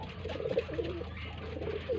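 Pigeons in a loft with eggs and young birds, cooing softly and continuously at close range with low, throaty repeated coos, with no talk.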